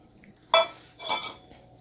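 Soaked cashews dropped into a blender jar in two quick bursts, each a bright clattering clink of nuts hitting the container, close and with no talk.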